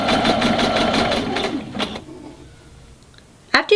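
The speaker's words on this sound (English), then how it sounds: "I'm just going to go around the whole top of the boot until it's all stitched down using a regular stitch" A sewing machine runs a regular stitch around the top of a fabric Victorian-style boot stocking, a fast steady mechanical chatter for about a second and a half before stopping, then quiet handling noises.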